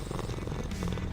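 Cats purring inside the video game Hades II, a low, steady rumbling purr held close and continuous through a short stretch with no voices over it.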